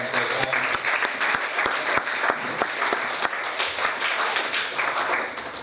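A church congregation clapping hands during a sermon, a burst of steady applause with sharp individual claps standing out, moderately loud and sustained throughout.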